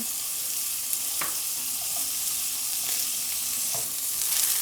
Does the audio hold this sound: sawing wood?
no